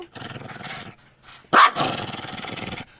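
A dog growls and barks up close, with a rumbling growl, a short pause, then a sharp loud bark followed by sustained snarling.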